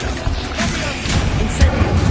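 The Incendio fire spell goes off in the Hogwarts Legacy video game, a loud burst of whooshing flame with rumbling booms and crackle that swells toward the end.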